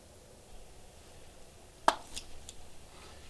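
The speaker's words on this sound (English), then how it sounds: "Then finally, you want to chop this tailbone out, because that's not necessary." A blade chops out a rabbit's tailbone while it is butchered in the field: one sharp, faint chop stands out against quiet outdoor background, followed by a couple of softer knocks.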